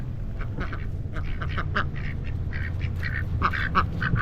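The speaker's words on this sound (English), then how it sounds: "there's ducks around here" Ducks quack repeatedly outdoors in a natural setting, a busy run of short nasal calls over a steady low background rumble, close and fairly loud with no talk.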